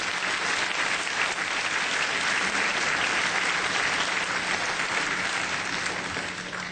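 A graduation audience at PCI Health Training Center applauds steadily to welcome the speaker, dense clapping sustained at a constant level throughout.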